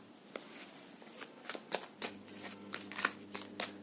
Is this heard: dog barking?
no